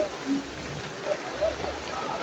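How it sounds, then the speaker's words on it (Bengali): Heavy rain falling at a market makes a continuous hissing wash, with a few faint voices and short calls rising briefly over the steady downpour. "অনেকটাই বৃষ্টি আছে,"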